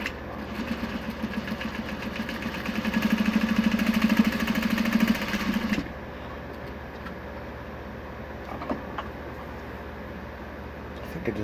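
A Juki 8700H industrial sewing machine stitches binding onto a shoulder pad, a steady close motor whir lasting about six seconds before it stops, leaving a faint background hum.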